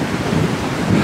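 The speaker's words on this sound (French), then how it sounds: "avec les vagues, avec le vent" Ocean surf and gusting wind on the coast, a steady broadband roar with low rumbling swells and wind buffeting the microphone, loud and continuous with no voices.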